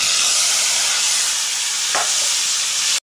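Taro greens hit hot oil in a kadai with fried garlic and chili, giving a loud, continuous sizzle that stops abruptly at the end.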